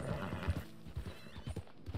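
A horse in Red Dead Redemption 2 gallops with quick, rhythmic hoofbeats and lets out a whinny as it leaps, heard up close and fairly quiet with no voices.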